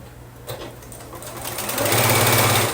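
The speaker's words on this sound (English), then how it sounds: "I'm sewing this with the center on top so I can make sure I don't flip my seam" Sewing machine stitching pieced quilt block units together, a steady mechanical whir that builds from a soft start to a louder, faster run near the end, heard alone without talk.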